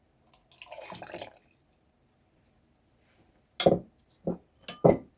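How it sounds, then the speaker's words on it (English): Fresh water poured into a blender over cashew nuts and soaked chia seeds for a heart-health smoothie: a short splashing pour of about a second, then a pause and three sharp, separate clinks and drips close by. "I'm now going to add some fresh water."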